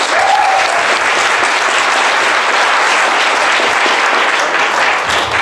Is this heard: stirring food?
no